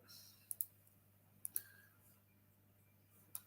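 Sharp mouse clicks on a create NFT button during a coding demo, a handful of crisp clicks in two quick pairs and a later pair, close and distinct over faint room hum.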